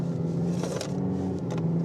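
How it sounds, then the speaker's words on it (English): A UPS truck drives nearby on the road, its engine a steady close rumble with brief rising swells, heard with no speech over it. "All right, I gotta beat this UPS truck"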